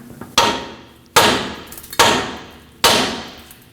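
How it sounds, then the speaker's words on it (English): Four sharp, loud metal hammer blows land close up on a tie rod stud of a Nissan Frontier pickup, each strike ringing briefly and decaying before the next in an uneven rhythm. "Now hit this with a hammer and break free that stud."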